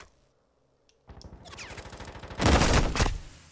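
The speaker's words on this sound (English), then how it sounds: "Perez getting aggressive with a machine pistol." Near silence gives way to rapid machine pistol bursts in a Call of Duty match, the fire growing louder and denser and peaking in a heavy close barrage near the end.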